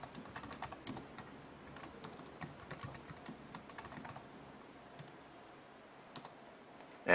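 Rapid typing of a disk-util command on a computer keyboard, quick irregular key clicks in bursts that thin out toward the end, close but faint, with no voice.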